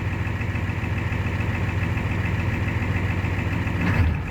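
Steady close idle of a 1994 Ford F250 with a 7.3 liter diesel engine, Banks power pack turbo and stainless Banks exhaust on a cold 30-degree start: a continuous low clattering rumble with a slight swell near the end.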